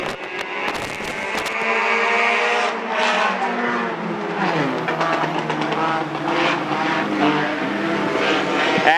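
Race cars on the Bedford Speedway dirt oval roar loudly through the first lap, with engine pitch rising and falling as the cars accelerate and pass close by in a continuous battle.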